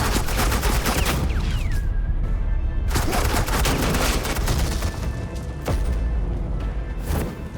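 Suppressing gunfire erupts in Batman: The Enemy Within, a loud, dense fusillade of rapid overlapping shots and booms that keeps going for the whole stretch, with a brief whistling tone near the start.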